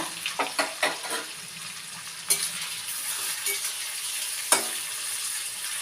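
Paneer cubes frying in hot, bubbling butter in a home kitchen give a steady soft sizzle, broken by a few sharp stirring clicks early on and later near the end.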